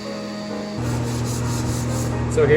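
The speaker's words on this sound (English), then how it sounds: "So here we're just doing a final hand sand to get all potential scratch marks out and to soften our bevel" A wooden live edge stair tread being hand sanded, with a continuous close rasping rub that grows louder after the first second and holds steady to the end.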